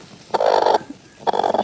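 Angry broody hen protesting as eggs are collected from under her, two harsh drawn-out squawking growls close by, separated by a short pause.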